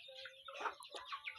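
Pet chickens kept at home cluck in a short, close burst of overlapping calls, a few sharper squawks rising above a soft steady background.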